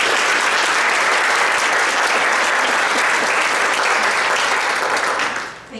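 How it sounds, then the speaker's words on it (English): A round of applause from an audience at a local nonprofit mental health panel event, steady dense clapping for several seconds that fades out at the end. "So let's give everybody a round of applause."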